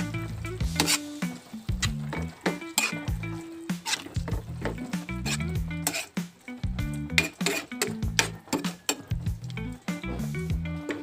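Sardines going into a hot pan while being cooked at home, with steady clinking of utensils against the pan, stirring and a soft sizzle running throughout, close and fairly loud, no talking.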